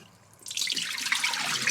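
Tap water runs over a freshly killed dove carcass being rinsed clean of blood in a sink, starting after a brief quiet moment and then pouring steadily and close.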